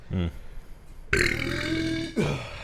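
A single loud, drawn-out burp rumbles for about a second, followed by a brief voice, with a short vocal sound just before it.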